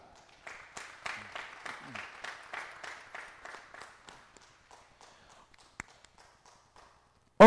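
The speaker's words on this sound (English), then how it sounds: "please welcome a big applause to Mrs. Emilia Babska." Enthusiastic applause and clapping from an audience at a para shooting competition swell up as an athlete is introduced, then taper off into scattered claps before falling quiet.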